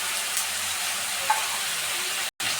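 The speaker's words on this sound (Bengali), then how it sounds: "এবার আমি আস্তে আস্তে কষাতে থাকবো।" Boal fish frying in a pan with chili powder and green chili paste gives a steady close hiss and sizzle, with one brief dropout near the end.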